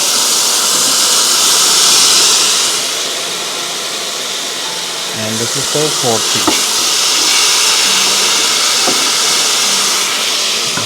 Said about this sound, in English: Oh, the sizzle is real.